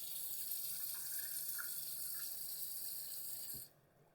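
A bathroom tap runs steadily, hissing as water splashes while a face is rinsed after a wet shave, with a few faint drips and splashes before the flow is cut off abruptly near the end.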